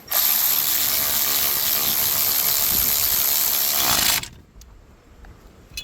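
A ratchet wrench turns a 13mm bolt on a 2019 GMC Duramax L5P truck during an A/C compressor replacement, giving a loud, continuous rapid clicking for about four seconds before it stops abruptly, leaving quiet shop noise.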